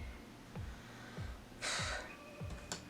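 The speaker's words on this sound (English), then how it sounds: "Penelope, this dog will not stop snoring." A dog snores nearby: a faint, steady series of short snorting breaths, repeating at an even rhythm, with one louder huff partway through. Nobody speaks.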